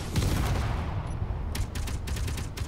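Rapid burst of fighter-ship gunfire in the space combat game Space Engineers, a loud, dense rattle of shots that thins into separate pulsing reports near the end, with no talking.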